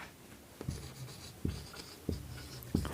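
Chalk or marker writing on a board during a maths lesson, with four distinct stroke bursts spaced roughly evenly, each a short scratchy tap, over a quiet room with no talking.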